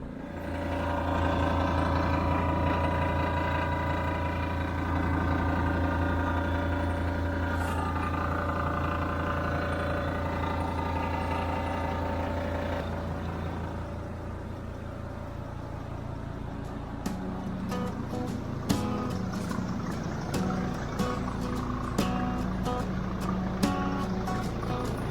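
A car engine with a badly adjusted exhaust runs steadily and loudly throughout, a dense droning rumble that eases slightly midway as scattered clicks and knocks join in.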